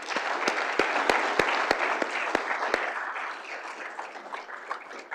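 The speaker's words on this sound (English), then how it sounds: "please give our sponsors and all of our incredible volunteers a round of applause" Event audience applauds sponsors and volunteers, a steady crowd of clapping hands with a few sharp nearby claps standing out in a regular rhythm early on, continuing evenly to the end.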